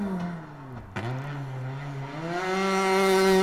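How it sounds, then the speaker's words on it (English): A single rally car's engine snarls loudly on a race track, dips sharply as it shifts gear, then climbs again in a rising, revving whine as it accelerates away. "Sight and sound of these cars, absolutely magnificent"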